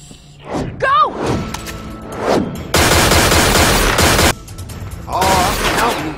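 Video game gunfire in Tales from the Borderlands, dense rapid bursts lasting over a second each, loud and close, broken by shouting voices and thuds.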